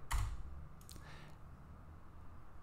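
Brief burst of typing on a computer keyboard while entering a dimension in 3D modeling software, a quick cluster of soft clicks at the start, then another small flurry of keystrokes, close and quiet.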